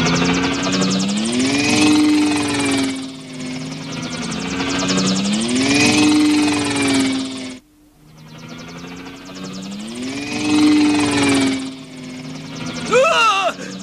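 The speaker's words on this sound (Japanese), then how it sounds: "あのヘリコプターの飛び方は交通違反だ。" A helicopter sound effect in a puppet show drones with a thrumming, wavering rotor pulse that swells and fades, continuous and fairly loud, broken by a brief dip midway.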